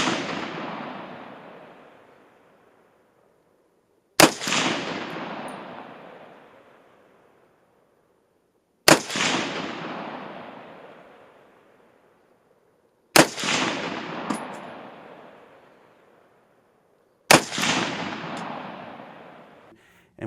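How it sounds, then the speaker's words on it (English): Five sharp AK-47 rifle shots firing steel-cased off-the-shelf ammunition at an outdoor range, each loud crack followed by a long decaying echo, spaced about four seconds apart with no talk. "First up was the AK. I shot some Tull ammo. This is classic steel-cased, off-the-shelf AK style ammunition."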